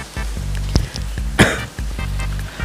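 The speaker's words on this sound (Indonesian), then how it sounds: "Masih batuk gitu ya." A person coughs several times in short, close bursts, with one sharper, louder cough standing out in the middle, recorded during a Minecraft gaming session.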